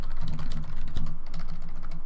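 Steady, dense keyboard typing on a computer during a graphic design session, the rapid key taps continuing without pause at close range with no one speaking.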